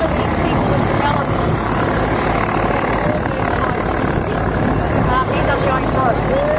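A propeller-driven F-51 warbird drones through a pass at the Tyabb Airshow 2018, a loud, steady engine roar heard from the crowd with people talking nearby.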